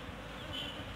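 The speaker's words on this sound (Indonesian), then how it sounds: "Ini lebah pekerja" Apis cerana honey bees hum steadily at an opened hive during a honey harvest, a close, continuous buzzing drone with no talk.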